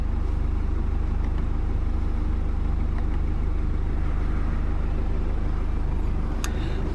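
A 2018 Mercedes-Benz E220d AMG Line diesel idles just after start-up, a steady low rumble with an even mechanical patter that holds throughout without revving.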